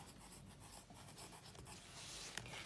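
Pen or pencil scratching across paper while a 10 cm square is drawn for a geometry lesson, a steady soft rubbing with light strokes and a small tap near the end, close and quiet with no talk.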